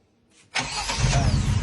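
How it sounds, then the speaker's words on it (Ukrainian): After a brief starter crank, a ZAZ 968 Zaporozhets small car engine catches with a sudden burst and settles into a loud, rough, throaty idle close by, through an Akrapovic exhaust. "показую вам, як заводиться і як працює ця машинка"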